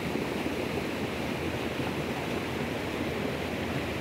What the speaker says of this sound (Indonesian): ini arus sungai yang sangat deras